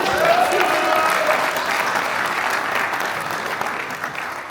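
A crowd at a La France Insoumise campaign launch rally in Nogent-sur-Oise breaks into thick, continuous applause that stays loud and full, easing slightly toward the end.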